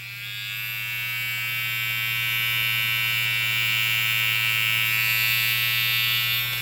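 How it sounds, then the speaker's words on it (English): A Supreme electric hair trimmer with a plastic body and freshly oiled blade runs alone in a steady, even buzz held close at constant level. "Very quiet in the sense of a trimmer these days."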